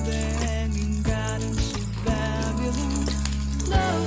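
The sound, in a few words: frying pirandai (adamant creeper) in a pan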